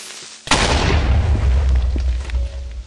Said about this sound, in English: And there's more explosions down here.